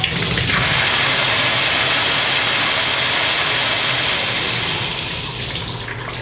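Water gushes steadily through a faucet's open supply lines to flush out bits of rubber O-ring and debris after a stuck Moen cartridge replacement, a loud, continuous rushing with a low rumble that eases slightly near the end; no one speaks.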